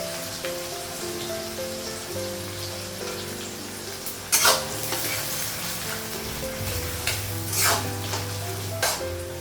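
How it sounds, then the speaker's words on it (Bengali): Onions and green chillies fry in a pan for a Bengali home-cooked mutton dish, a steady close sizzle with a few sharp spattering bursts and stirring scrapes over faint background hum. "পেঁয়াজটা ভাজা হয়ে গেছে"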